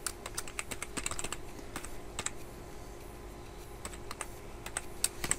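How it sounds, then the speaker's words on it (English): Typing on a computer keyboard while scripting a Roblox tutorial: a steady patter of close, quiet key clicks in uneven bursts, with sharper strokes scattered throughout and no talking. "We just start typing, and then you can just press enter when you're on the right thing."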